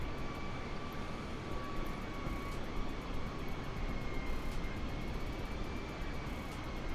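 An A32NX airliner in Microsoft Flight Simulator 2020 flies low, producing a steady, even jet engine roar with a faint high whine held throughout, no voices.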